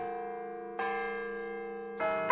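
Orton Hall bell tower chimes at the university, clear sustained bell tones with two new strikes layered over ringing decay, heard alone.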